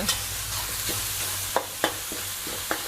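Minced pork with a little fat stir-fries with chili and garlic in a hot pan, a continuous close sizzle broken by several sharp scrapes and knocks of the spatula.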